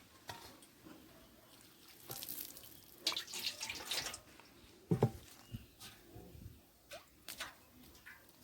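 A kitchen tap runs water for washing ackee and saltfish ingredients, with gurgling sink splashes and drips. Quiet at first, it swells into clustered splashes midway, stays close and moderately faint with no talk.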